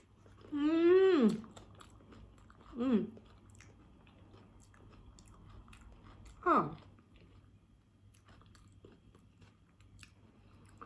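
Someone bites and chews crispy shrimp, crunchy outside and soft inside, served with a poured dipping sauce; the faint crunching and mouth sounds run close-up, broken by a few hummed, drawn-out vocal noises.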